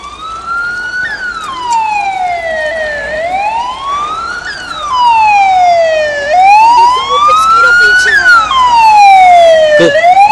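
Several emergency sirens wail and sweep up and down together, growing louder as fire engines approach a burning car, with a steady road rumble underneath.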